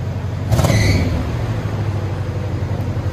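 1984 Chevy Caprice with a 5.0L V8 and Flowmaster Flow FX exhaust: a single blip of the throttle rises out of a deep, steady idle rumble, then settles back, close and loud, with a belt-type squeal briefly audible.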